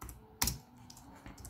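Typing on a computer keyboard: a few quiet, sharp key clicks, with one louder tap standing out, close and on their own.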